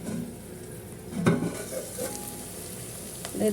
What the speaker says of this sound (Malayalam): ഇനി നമുക്കിതിലേക്ക് തക്കാളി ഇട്ട് കൊടുക്കാം കുറച്ച് വേപ്പലിട്ട് കൊടുക്കാട്ട നല്ലോണം ഒന്ന് മിക്സ് ചെയ്ത് കൊടുക്കാം